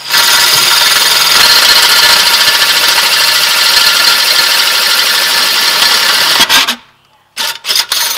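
A loud, continuous whir of a cordless drill running steadily for several seconds while drilling into a VW Transporter wheel hub, then cutting off abruptly, followed by a few brief clicks.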